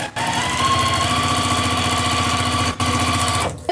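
A sewing machine stitching a seam along a fabric tube for an infinity scarf, a fast even mechanical chatter close up, with a brief pause near the end before it stops.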